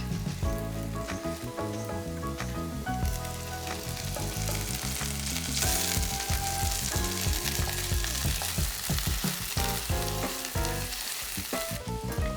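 Vegetable curry simmering and cooking down in a pan, a steady dense sizzle and bubbling that runs throughout, loud and close with faint stirring mixed in.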